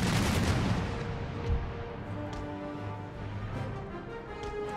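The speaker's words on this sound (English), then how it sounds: "So lots of exchanging some gunfire with the heavy first to the rear." Cannon fire from an Empire Total War naval battle, dense overlapping booms forming a steady rumbling barrage with one sharper blast, loud and continuous without speech.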